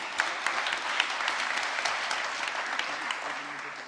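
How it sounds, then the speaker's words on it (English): Audience applause fills the room at the ETHGlobal Waterloo 2023 hackathon closing ceremony, steady dense clapping with a few sharper claps standing out, sustained for the full span without talk. "Please give them a big round of applause."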